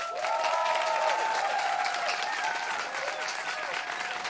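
Theatre festival audience at a song slam applauds steadily and loudly throughout, a dense wash of clapping with a few whistles or cheers rising above it.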